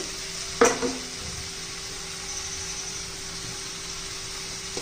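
Ridge gourd curry with roasted peanut powder is stirred and sautéed in a pan, a steady soft sizzle with a brief scrape of a spoon early on, close and fairly quiet.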